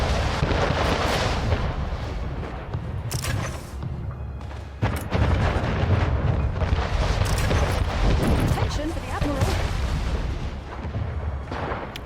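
Mortar fire in the city-building game Anno 1800, a dense barrage of heavy booms and rumbling explosions rolling on loudly and continuously, with a brief lull midway.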